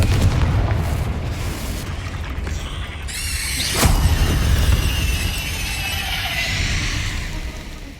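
A Confringo blasting curse explodes in the Hogwarts Legacy video game, a loud booming burst with a sharp crack and squealing magical whoosh trailing off, over a continuous rumbling game soundtrack.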